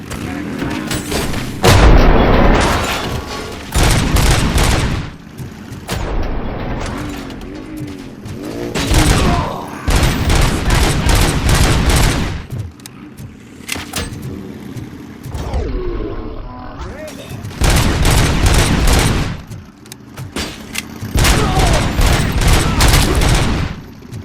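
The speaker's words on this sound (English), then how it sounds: "Shoot the motherfucker!" Heavy gunfire and booming blasts from the video game RoboCop: Rogue City come in loud, repeated bursts with short lulls between them.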